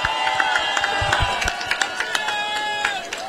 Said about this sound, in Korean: 여러분 박수 한번 더 보내주세요